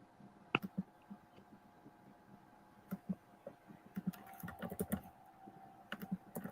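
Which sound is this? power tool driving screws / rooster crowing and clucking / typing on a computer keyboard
typing on a computer keyboard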